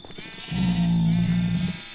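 A single sheep bleats in the Minecraft video game, one steady drawn-out bleat lasting about a second, loud and close.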